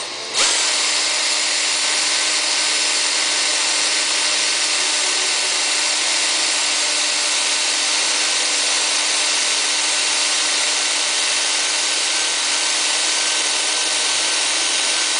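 A power drill whines steadily at high speed while drilling into a lock, loud and close, with a grinding metallic edge and no pauses.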